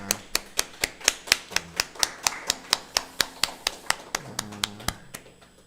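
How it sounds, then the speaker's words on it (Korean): Rhythmic clapping during a church New Year's Eve service at a congregation in Guadalajara: sharp, evenly spaced claps roughly four per second, steady and close, with a low sustained tone entering near the end. "하나님께 영광의 박수 올려드리겠습니다"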